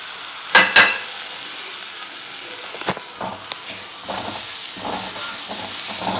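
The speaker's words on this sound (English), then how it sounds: "now you're going to drop in tomatoes and let it cook for some time" Tomatoes hit hot ghee spiced with turmeric in a pan for a chicken curry, giving a steady soft sizzle with a couple of sharp clatters near the start and faint stirring scrapes afterward.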